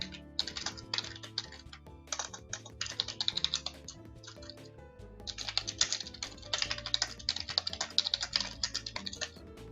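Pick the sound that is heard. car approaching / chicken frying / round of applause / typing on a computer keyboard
typing on a computer keyboard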